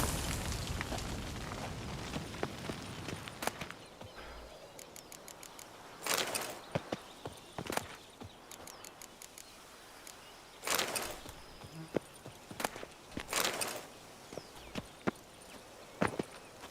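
Horse hooves clip-clop in The Witcher 3 video game. The footfalls come in short irregular bursts with quiet gaps between them, fairly faint and close, with no talking.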